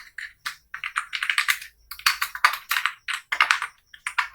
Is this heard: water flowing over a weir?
no